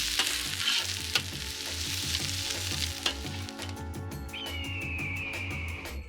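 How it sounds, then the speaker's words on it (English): Onions and peppers sizzle steadily in a hot pan while a utensil stirs them, scraping and clinking now and then, with a thin whistle rising in the background toward the end; no one speaks. "So start by adding the onions, peppers, okay, stir these ingredients together."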